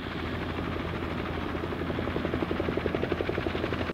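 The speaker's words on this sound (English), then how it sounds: "It's beautiful helicopter." A helicopter passes with a steady engine roar, its rotor beating into a clear rapid thump that grows more distinct and pulsing toward the end, fairly close with no voices.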